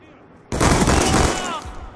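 Gunfire in the multiplayer video game Black Ops 2: after a quiet start, a loud rapid burst of automatic fire lasting about a second rings out close and then tapers off.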